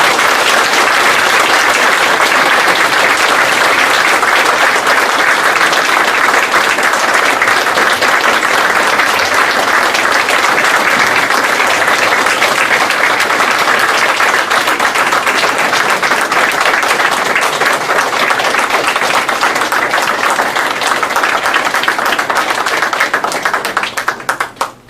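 A lecture audience bursts into sustained applause, dense loud clapping from a large crowd that holds steady for about twenty-five seconds before cutting off, with no talk over it.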